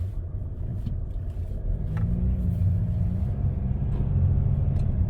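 A car with a loss-of-power fault rumbles steadily while driving slowly down a narrow alley, its low engine drone rising slightly in the second half as it accelerates gently, heard from inside the cabin.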